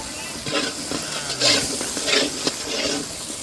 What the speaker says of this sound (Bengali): আস্তে আস্তে চিকেনটা দিয়ে দিই